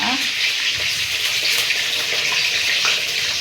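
Brinjals soak in a bowl of water for a third rinse, producing close, continuous splashing and sloshing with faint clinks as the vegetables are swirled by hand.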